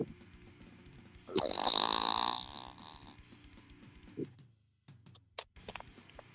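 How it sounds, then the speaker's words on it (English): A single loud, rough, sustained bodily eruption lasting around three seconds, bursting out suddenly against a quiet room background and then fading, followed by a few faint scattered knocks and shuffles. "I got a fart."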